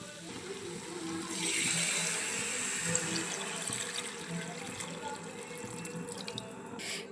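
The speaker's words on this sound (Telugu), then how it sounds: "ఇప్పుడు వాటర్ అయితే యాడ్ చేసుకుందాం" Water is poured into a simmering country chicken curry in a pot, a steady continuous splashing pour lasting several seconds at moderate loudness with no talk.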